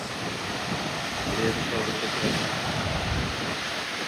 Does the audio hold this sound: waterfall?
yes